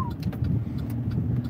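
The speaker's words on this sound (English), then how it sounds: "listen to that motor purr" A car motor humming smoothly while driving down a road, a steady low rumble heard from inside the vehicle with faint ticks and clicks.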